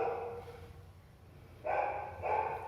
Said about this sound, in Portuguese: com sons de latidos ao fundo